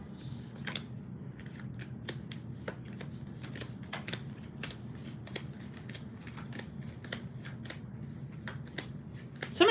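Tarot cards are handled and pulled from a deck in a quiet room, producing a long run of crisp, irregular snaps, flicks and taps over a faint steady hum.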